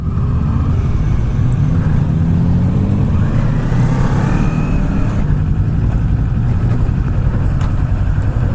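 A 2019 Kawasaki Z400 motorcycle's engine revs loudly up close, rising and falling in steady surges over a continuous rumble with no talk.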